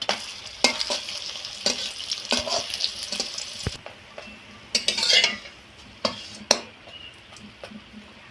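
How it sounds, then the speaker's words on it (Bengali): Paratha frying in hot white oil in a wok, a steady close sizzle broken by sharp scrapes and clinks of a spatula as the bread is turned, with brief quieter gaps. "পরোটাগুলো ভেজে নেওয়ার জন্য কড়াইতে সাদা তেল দিয়েছিলাম, তেলটা গরম হয়ে গেছে। এবার পরোটাগুলো ভেজে নেব।"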